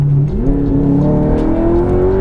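An Audi R8's engine revs up while driving, a loud, close, rising tone that climbs smoothly in pitch over a couple of seconds as the car accelerates.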